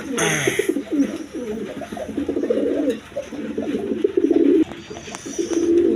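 A pair of high-flying Giribaz pigeons, a male and a female, coo in repeated low rolling phrases close by, with a brief burst of other noise at the start.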